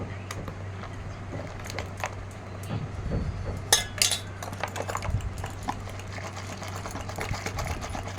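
A spoon clinks against a glass and cutlery while sugar is added to homemade cold coffee, giving a few brief, close metallic taps over a steady low mechanical hum.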